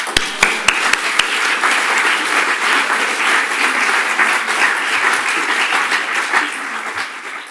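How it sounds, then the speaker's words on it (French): A church congregation applauds. A few sharp, separate claps open into loud, sustained clapping that carries on evenly and then thins out toward the end, with faint voices underneath. "On peut applaudir Jésus"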